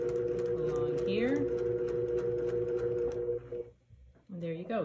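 A domestic sewing machine stitches a straight line in a steady, moderately loud hum for about three and a half seconds, then stops; a person speaks over and after the running.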